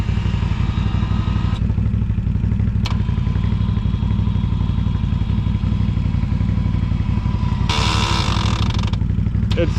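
A broken winch on a Can-Am Outlander ATV, heard over the ATV's engine droning steadily and loudly up close, with rattling clatter and a couple of sharp knocks and a rougher burst near the end.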